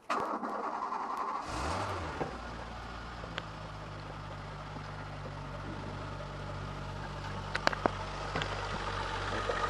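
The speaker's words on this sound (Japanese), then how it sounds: "こんなちっちゃいのにエンジンかかっちゃうとすごいです。" A Renault Alpine V6 Turbo engine cranks and catches, started from a small lithium-ion battery, then settles into a steady low idle with a few faint clicks nearby.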